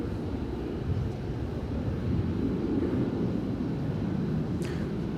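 An outgoing plane bound for Albuquerque at DFW Airport at night produces a steady, distant low roar, broad and even, with wind buffeting the microphone.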